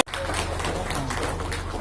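Dense, steady crowd applause welcoming a chief guest at a trade community event in Jaynagar, a continuous wash of many hands clapping at moderate distance, with a low hum beneath.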